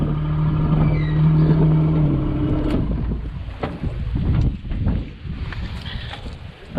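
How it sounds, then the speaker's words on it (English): Strong gusts buffet an outdoor microphone on a windy day while a plum tree is planted, producing a loud, uneven low rumble that swells and dips throughout with no voices. "windy day to do this work."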